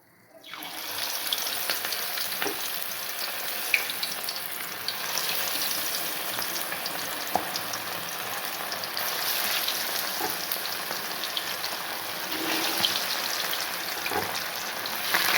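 Marinated chicken lollipops fry in hot oil in a pan over medium heat, a dense, continuous sizzle with small pops and crackles, steady and close throughout.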